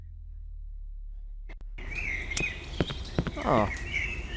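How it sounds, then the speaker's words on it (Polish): Birdsong in the horror video game Cry of Fear: after a brief silence, a bright outdoor ambience opens with several short chirps and warbling calls over a steady background, while a voice speaks briefly. "Słyszę śpiew ptaków."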